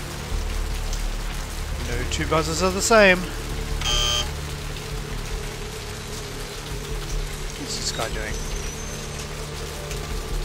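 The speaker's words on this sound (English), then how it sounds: "just sheltering from the rain, are you?" Steady rain patters throughout under a low hum in the video game Vampire: The Masquerade - Bloodlines, with a short electronic buzzer and people talking briefly over it.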